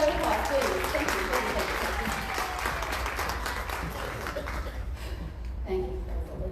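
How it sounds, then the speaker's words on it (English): Applause from the audience at a real estate graduation ceremony, fairly dense at first and gradually thinning and fading toward the end, with a low background hum and some voices beneath. "another round of applause, please"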